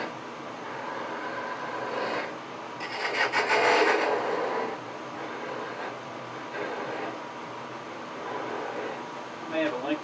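Shear scraper held like a skew cutting wood on a lathe while turning an acorn, a steady rasping scrape with a louder burst of cutting partway through, close and continuous.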